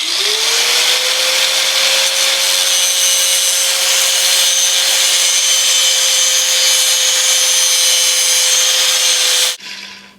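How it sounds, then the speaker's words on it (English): An angle grinder spins up and holds a steady high whine as it grinds knife steel, loud and continuous for several seconds before abruptly stopping. "So I just switch my angle grinder disc out"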